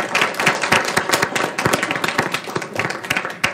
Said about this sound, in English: Let's give a warm round of applause for Ms. Rodriguez